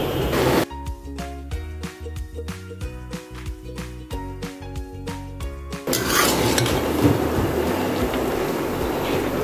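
Spinach simmering in milk in a pot over medium heat, first a series of sharp metallic clinks and knocks from stirring against the pot, then a steady bubbling hiss as it boils, close and moderately loud with no talking.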